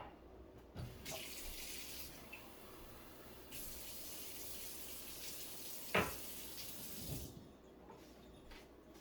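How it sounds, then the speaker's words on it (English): Water runs steadily into a pot already at a boil, a continuous close splashing rush broken by a couple of brief clinks of the pot. "I'm gonna put a little bit more water in there. It's boiling."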